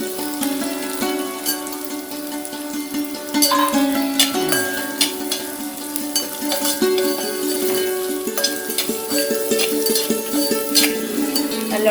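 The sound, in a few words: stirring breadfruit masala with coconut in a pan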